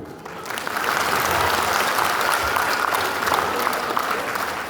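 Steady crowd applause fills a wedding hall in Uzbekistan, a dense, sustained clapping that swells early and holds loud and even throughout, with no voices standing out.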